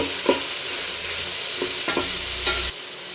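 Tomatoes with coriander, fenugreek and mint leaves stirred and frying in a pan for vegetable pulao, a steady close sizzle broken by a few sharp spatula scrapes and clinks before it cuts off.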